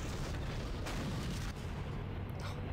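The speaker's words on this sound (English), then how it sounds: "Just have the massive explosions" Massive, continuous explosions roar through a Dead Space game scene, a dense, loud rumble of booms and blasts with no let-up across the whole stretch.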